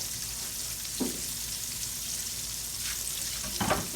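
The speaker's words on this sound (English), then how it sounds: "I'm gonna toast a couple of them off on my griller here" Buns toasting on a hot griddle give a steady broadband sizzle throughout, with a few brief louder scrapes or crackles near the start and end, close and fairly quiet, no voices.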